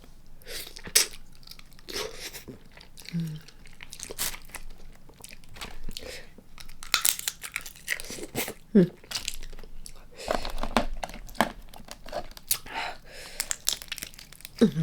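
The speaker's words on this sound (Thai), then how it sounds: "ขาปูวันนี้กินขาปูสะใจมาก" Blue crab legs being bitten and cracked, with repeated close crunching, crinkling and tearing of shell scattered through the stretch, interspersed with soft chewing and brief murmurs.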